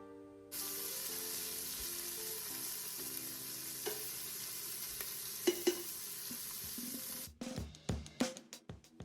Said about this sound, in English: So we want to start with the leeks and the onions, and we're going to saute for about 2 to 3 minutes.